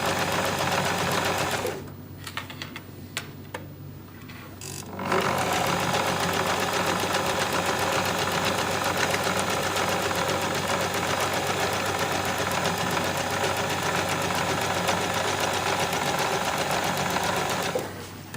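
A sewing machine stitches fabric in a continuous close, rapid mechanical whir, pausing briefly once before running steadily again.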